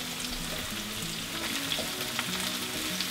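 Asparagus and other spring vegetables sauté in a hot pan for pasta primavera, giving a steady close sizzle with light scraping stir strokes throughout and no talking.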